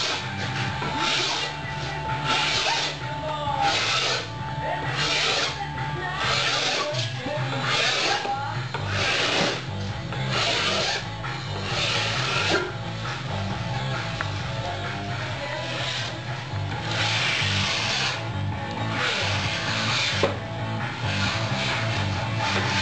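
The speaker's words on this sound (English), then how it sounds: "Get yourself a couple, maybe a medium cut and a fine cut file, and just like you would sharpen a blade on an axe." A metal file sharpens the edges of a board in steady repeated rasping strokes, close and continuous over a constant background hiss.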